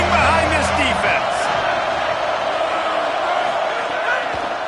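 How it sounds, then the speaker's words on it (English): A college football stadium crowd roars steadily for the home defense on a big third down in the red zone at Florida vs Tennessee, a dense, sustained wall of cheering with a voice faintly over the top. "this crowd is getting behind this defense"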